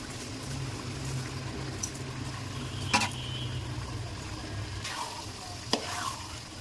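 Polao rice being stir-fried with cooked meat in a pot, a steady low sizzle under soft scraping and a few sharp clinks of a spoon against the metal, close and moderately quiet.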